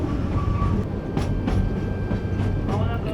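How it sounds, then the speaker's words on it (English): Rack locomotive hauling a train up the steep rack section of the Oigawa railway in Japan, a steady rumbling rail drone with faint clanks and a thin whine running throughout, with no talk. "A special rack locomotive is attached"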